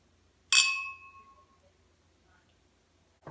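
A single clear clink of a glass of red wine, set beside a plate of fettuccine alfredo and garlic bread, rings close and bright, then decays smoothly over about a second into quiet room tone.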